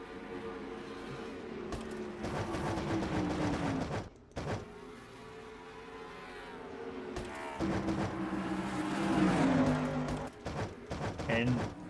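Stock cars race past on an oval track in a NNSCRA Castrol GTX Cup Series race, a loud engine drone rising and falling as several cars pass in succession, with an announcer talking over it.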